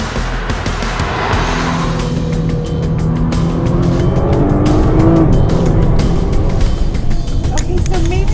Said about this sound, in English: This is one of the most capable production cars in the world, and we're on some of the twistiest roads in the world